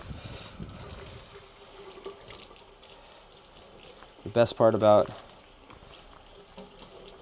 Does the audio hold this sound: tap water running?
yes